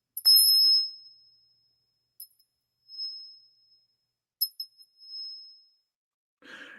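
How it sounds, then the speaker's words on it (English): A small bell is rung several times in a quiet room, a bright ringing strike that decays, followed by lighter taps and shorter rings with silence between them. "I'm going to ring that bell for Russell Lee Adams"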